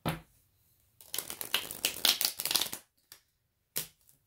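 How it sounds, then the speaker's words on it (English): Tarot cards are shuffled up close in one long riffling burst of about two seconds, followed by two short, crisp flicks after brief pauses. "So I've got 2 more shuffles here for you"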